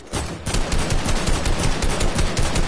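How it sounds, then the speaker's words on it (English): Rapid automatic gunfire in a first-person shooter video game as players shoot at a wall, with dense, continuous bursts that stay loud and close for the whole stretch after a brief quiet start. "Keep on shooting that wall."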